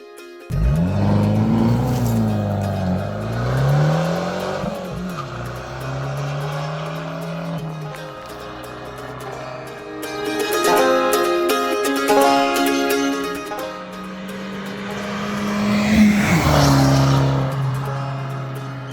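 A Fiat 595 Abarth fitted with upgraded Koni suspension is driven, its engine loud and close, rising and falling through several revving accelerations and gear changes with a brief quieter stretch in the middle.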